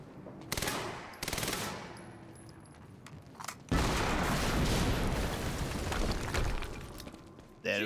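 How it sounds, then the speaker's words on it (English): Explosive blasts and rapid bursts of gunfire in a Quantum Break gameplay scene, loud booming hits followed by a long sustained roar of rumbling destruction, with a short sharp burst at the end. "we just heard an explosion near the harvesting perimeter"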